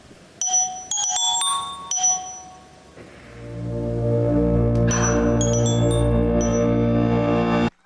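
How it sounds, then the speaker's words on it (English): A phone ringtone plays inside a video: bright chiming tones at first, giving way to a sustained, louder melodic ring that continues steadily until it cuts off. "Oh, your phone's ringing."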